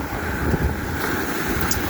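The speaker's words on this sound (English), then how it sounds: "That's because there's strong wind, strong westerly, even though it's sheltered here." A strong westerly wind roars steadily into the microphone at a sheltered South Wales shore during an autumn blow, with broad buffeting and the wash of waves beneath, loud and continuous, with no talking.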